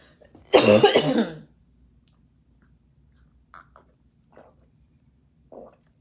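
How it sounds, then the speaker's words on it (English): A single loud, rough cough close by, followed by quiet with a few faint small sounds. "I got a cough."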